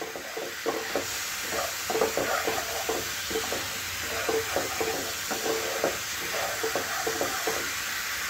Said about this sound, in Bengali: খুব ভালো করে মশলাটা কষিয়ে নেব।